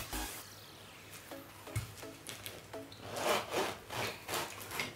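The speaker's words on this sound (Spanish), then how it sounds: "si quieres voy cortando yo el chorizo" A knife saws back and forth through a chorizo sausage on a board, close rasping strokes in an uneven rhythm that grow denser and louder toward the end.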